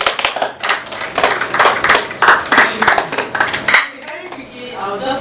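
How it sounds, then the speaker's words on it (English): An audience at a live fashion stream claps for a team, brisk, closely spaced hand claps at steady loudness that stop abruptly near the end, followed by a brief murmur of voices. "Can we clap for them again?"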